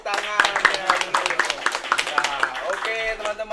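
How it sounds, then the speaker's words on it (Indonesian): Audience hands clapping in rhythm at an Indonesian community evening event about drug rehabilitation, a steady run of sharp claps mixed with voices and crowd noise. "Tepuk tangan."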